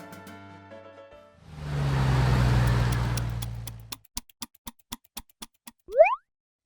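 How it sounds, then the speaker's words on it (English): A cartoon tow truck drives up with a swelling engine rumble of a few seconds. A string of quick ticks follows, then a springy rising boing, all heard clearly without talk. "here is our tow truck friend."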